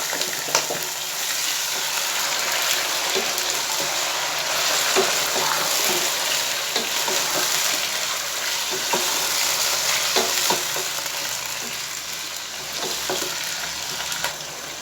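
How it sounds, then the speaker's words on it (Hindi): One kilogram of chicken fries with browned onions for biryani, a steady close sizzle with scraping stirs and crackles running throughout. "अब इसमें मैं 1 किलो चिकन ऐड कर रहा हूँ।"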